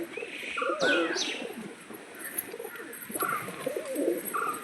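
Pigeons in a loft, including a female bird, give low, throaty coos and soft warbling calls. The calls are close and moderately loud, with a few chirps over a quiet background.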